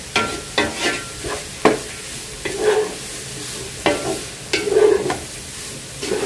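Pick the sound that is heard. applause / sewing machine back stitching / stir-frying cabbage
stir-frying cabbage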